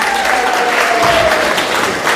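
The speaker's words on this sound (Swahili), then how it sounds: "Tupigie Dhauri makofi mazuri." An audience at a church gathering with a governor present breaks into steady applause for a young man named Dhauri, a dense wash of clapping filling the moment, close and continuous, with a faint tone and murmur underneath.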